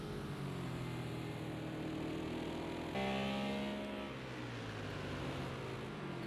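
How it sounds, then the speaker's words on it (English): GT3 race car engines in Project CARS 2 at Laguna Seca, a loud, steady, close droning roar with pitch sweeps as the car shifts gears and changes speed, alone without voices. "Fantastic noise coming from these cars."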